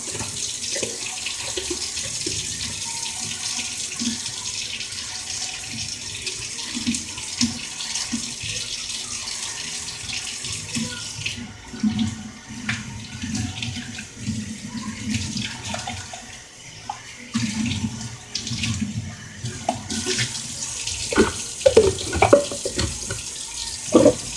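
Tap water runs into a sink while a cup is rinsed out, a continuous splashing stream with brief interruptions and clinks as the cup is moved under the flow.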